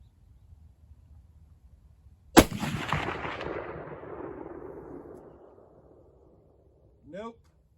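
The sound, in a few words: Marlin 336 .30-30 rifle shots at steel targets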